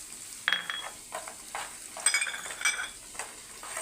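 Turmeric stirred into cumin, black pepper and dried red chillies frying in a pan for saada pongal, with a steady faint sizzle under scraping stirs and a few light clinks of the spoon.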